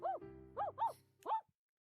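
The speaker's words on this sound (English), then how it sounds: "I heard him bark excitedly and I looked up." A dog in a video game barks excitedly, four short yappy barks in quick succession, clear and close against a quiet background with a faint low tone underneath.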